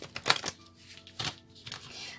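A deck of tarot cards is shuffled in two or three quick, papery riffling bursts with short pauses between them, close by, with faint talk in the background.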